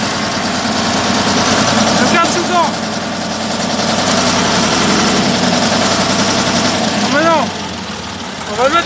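A Deutz 8006 tractor engine runs at a slow, steady pace in first gear, a loud close rumble with a knocking texture and occasional squeaks, while a voice speaks over it.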